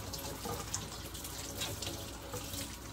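Hot water pours steadily from a kitchen tap into a sink during washing, a continuous close splashing rush with no talk.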